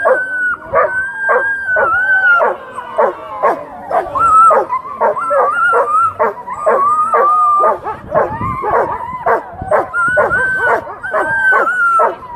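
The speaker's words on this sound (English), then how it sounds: "This dog team needs no help." A sled dog team barks and yips nonstop, close and loud, with overlapping excited calls and a few howl-like whines in a steady, frantic rhythm.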